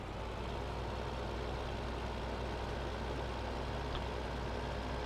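A tractor engine in the farming game Farming Simulator 15 drones steadily as it follows a set course while collecting wrapped bales, a continuous low rumble with no breaks.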